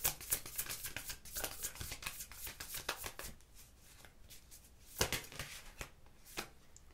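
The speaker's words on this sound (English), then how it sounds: "Shuffle this way, I said." A deck of tarot cards being shuffled by hand at close range, with rapid crisp riffling and slapping bursts that come and go in short clusters.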